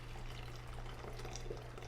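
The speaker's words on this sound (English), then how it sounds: "we just take this water that we boiled and you just pour it over" Boiled water poured over a coffee filter in a Chemex-style pour-over brewer, a faint, continuous trickle under a low steady hum.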